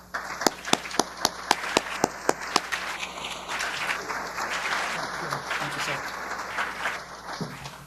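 An audience welcoming President William Powers to a keynote event, starting with a few loud, distinct claps that swell into sustained applause from a large crowd, with some voices mixed in.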